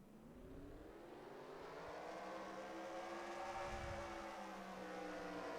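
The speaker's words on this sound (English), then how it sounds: "Drivers, start your engines! Here we go, as all cars start to rev." Stock car engines in the NASCAR Racing 2003 video game at Atlanta rev together at the start, a loud, steady multi-engine drone rising slightly in pitch, with no talk over it.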